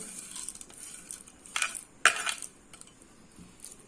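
Melon seeds being stirred into a motichoor laddu mixture in a pan, heard as a few scraping, clinking strokes of a spoon against metal, fairly quiet and without talking.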